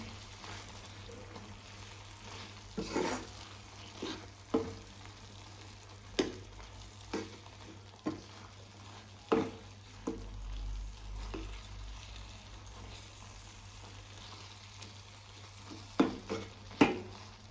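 Dates being stirred into tomato chutney in a pan, with raisins already added: a soft steady sizzle broken by a dozen or so sharp scrapes and knocks of the spoon against the pan, evenly spaced and close by.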